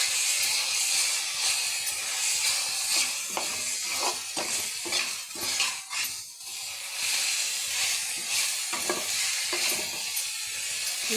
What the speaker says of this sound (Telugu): ఇదిగోండి ఇలా బాగా ఫ్రై అవ్వాలి